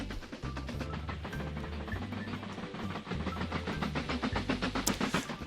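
Coal train rolling along a rail line in the Mashinky game, a steady rumbling run with regular clickety-clack wheel beats and hissing steam, loud and continuous throughout.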